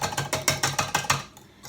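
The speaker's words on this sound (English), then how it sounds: "Now what I'm going to do is I'm going to take this whisk off." A whisk attachment is removed from a stand mixer, making about eight quick, evenly spaced mechanical clicks over just over a second, close and fairly quiet, followed by near silence.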